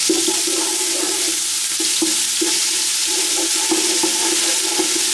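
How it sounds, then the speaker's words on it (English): Crushed garlic sizzling in olive oil in a pot, a steady loud frying hiss with soft stirring scrapes and small bubbling pops, close up and with no talk. "Let's add in some olive oil. Add in some crushed garlic."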